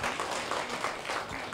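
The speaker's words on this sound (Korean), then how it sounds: "음성 공양해 주신 달마짭탕단에 다시 한번 감사의 박수 보내주시기 바랍니다" A congregation at a Buddhist temple dharma service gives steady, dense applause in thanks to a singing group, filling the hall without a break.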